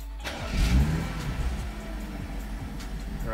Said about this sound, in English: And then start the engine